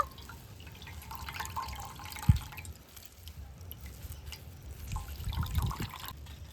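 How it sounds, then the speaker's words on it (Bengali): Water drips and trickles as soft fresh chhana is squeezed by hand for kacha golla sweets, faint irregular drops with a couple of sharper splashes, close and quiet, with no talk. "এবারে যেটা করছি দেখুন এইভাবে নিগড়ে নিগড়ে একটু জলটা বার করে দেব"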